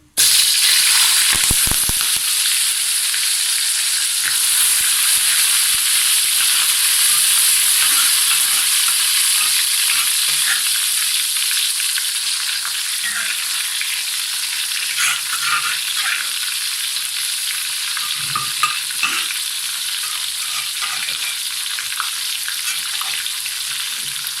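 Ground spice paste for beef rendang frying in hot oil, a loud continuous sizzle and crackle with occasional stirring scrapes, close and alone throughout.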